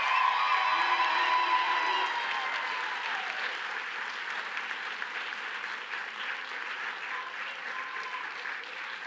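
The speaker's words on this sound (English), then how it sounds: "Can we give another round of applause for the graduates?" Graduates receive a round of applause at a nursing college commencement ceremony: a large crowd claps steadily and loudly, with scattered whoops and cheers rising early before settling into a sustained, slowly fading ovation.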